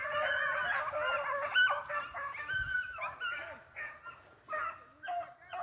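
Beagles baying during a rabbit hunt trial, a speed and drive hunt: several dogs give repeated, overlapping howling bays in uneven bursts, fairly close and loud, with no talk.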